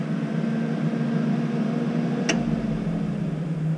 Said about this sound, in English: I do have my roof fan open